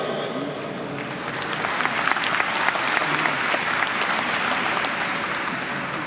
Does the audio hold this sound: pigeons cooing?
no